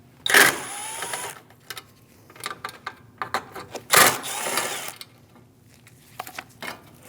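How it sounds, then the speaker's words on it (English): Two 7mm hood latch bolts come out on a Chevrolet Malibu with a 1.5L engine. Two sharp bursts of ratchet or driver noise are separated by light clicks and handling sounds, all close up with no talk. "Remove the two 7mm bolts for the hood latch."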